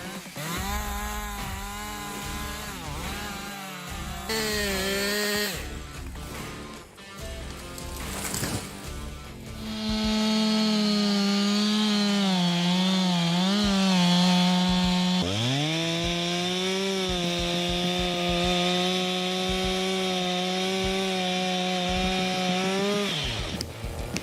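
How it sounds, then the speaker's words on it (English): A powerful chainsaw fells a large tree with a hollow trunk, cutting through fire-surviving timber; a loud, continuous engine whine shifts pitch as it revs and bogs into the wood, with a brief drop before rising steady again. "He felled a large tree with a powerful chainsaw"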